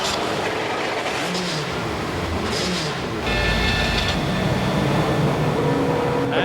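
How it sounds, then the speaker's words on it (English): Race car engines firing up and revving on the grid at the Bathurst 1000, among them Peter Brock's red and white Vauxhall Vectra. A dense, loud mechanical roar swells and grows heavier partway through, with no voices. "Ladies and gentlemen, start your engines."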